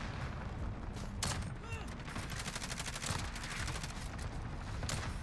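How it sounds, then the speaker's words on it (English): Airstrike explosions in Call of Duty Modern Warfare: booming blasts amid dense, rapid gunfire, loud and continuous in a chaotic battle soundscape. "Bet that's my own team's airstrike, too."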